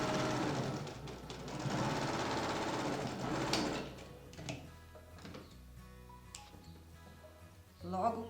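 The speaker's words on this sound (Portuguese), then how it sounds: "agora eu vou passar a costura, então, em cima das marcações" A sewing machine stitches along marked lines on fabric for a trapezoid zippered pouch, whirring loud and close for a few seconds before dropping to quieter, intermittent ticking and handling noises.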